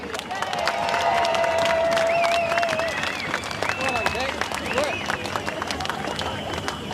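Crowd at an outdoor rally outside Parliament House in Melbourne clapping and cheering, a broad sustained wash of applause with whistles and scattered shouts, voices mixing in throughout.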